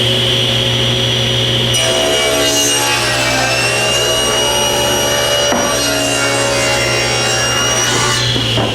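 A table saw rips rough lumber with a loud, steady whine, the blade humming before the cut and grinding through the wood close up without pause.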